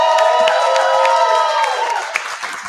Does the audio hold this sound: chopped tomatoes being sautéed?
no